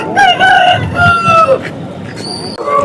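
Roosters at the Chintamani hen market crow loudly and close by, several long drawn-out calls overlapping one after another across the whole stretch.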